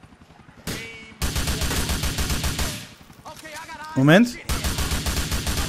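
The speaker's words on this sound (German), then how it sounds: "Wir schießen jetzt schon wieder." Rapid automatic gunfire in GTA 4, a loud dense stream of shots in sustained bursts with a brief break, and someone speaking briefly between them.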